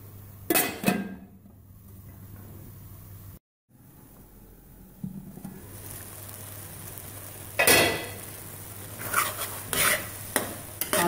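Carrot halwa being stirred and roasted in a pan, with scraping spoon strokes against the metal and a soft sizzle underneath, in short bursts separated by quieter gaps.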